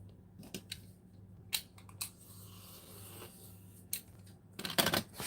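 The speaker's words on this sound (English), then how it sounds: "I'll cut a bigger piece and just trim where I need it" Scissors snip through paper for an art journal page, giving several sharp, close cuts spaced irregularly with quiet handling noise between them and a quick cluster of snips near the end.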